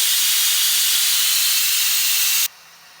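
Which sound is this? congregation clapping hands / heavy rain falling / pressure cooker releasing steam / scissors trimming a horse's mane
pressure cooker releasing steam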